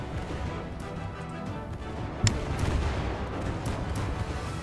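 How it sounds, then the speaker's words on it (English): A missile volley firing in From the Depths, with a dense rumbling barrage of launches and blasts, one sharp louder crack partway through, and sustained rolling explosions continuing underneath. "Here comes another missile volley."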